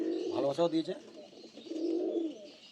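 Black Giribaj pigeons coo close by, with soft, low rolling calls that swell and fade in two bursts and nothing else prominent.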